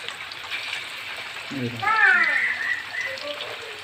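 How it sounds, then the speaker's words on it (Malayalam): Unnakkaya, Malabar stuffed plantain dumplings, fry and get turned in a little oil, giving a steady soft sizzle that a voice briefly speaks over midway. "കുറച്ച് എണ്ണയിൽ തിരിച്ച് മറിച്ച് കൊടുക്കും"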